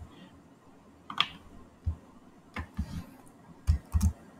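Keys on a computer keyboard are tapped at an irregular pace while a command is entered in the Vim editor on Linux, with soft close-up clicks and a few firmer presses in a quiet room.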